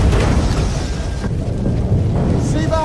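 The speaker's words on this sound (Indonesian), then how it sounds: "Namun tiba-tiba terdengar suara ledakan." A loud, dramatic explosion effect rolls as a deep, sustained rumble with crackling debris across the whole stretch, ending in faint high ringing tones.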